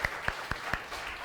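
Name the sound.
congregation applauding in church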